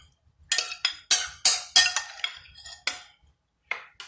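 Ingredients are mixed in a baking pan with a utensil, giving a string of about eight sharp metallic clinks and scrapes in an uneven rhythm, close and clear with quiet gaps between.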